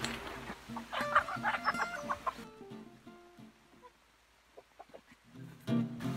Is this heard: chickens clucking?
yes